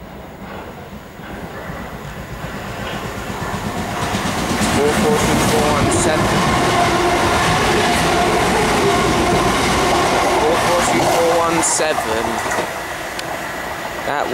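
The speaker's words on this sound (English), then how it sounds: "Here comes a train." A Gatwick Express electric passenger train, a five-carriage Class 442, rolls past close by at Preston Park, its broad rumble swelling to a steady roar with rhythmic clatter of wheels over rail joints, then easing slightly as it continues.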